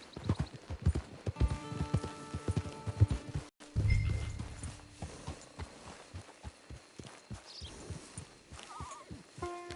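Horse hooves clip-clop in a steady walking rhythm in Red Dead Redemption 2, close and clear, with a short snort or whinny partway through and a brief gap in the sound.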